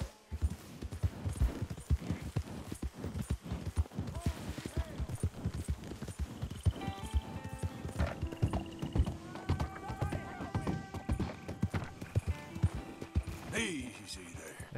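Horse hooves clip-clop in Red Dead Redemption 2, a steady run of close, rhythmic hoofbeats over a game landscape near alligator-filled water, with someone talking over them throughout and some game sounds layered in.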